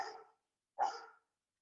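A dog gives two short barks some distance away, separated by a brief pause, faint against an otherwise quiet room.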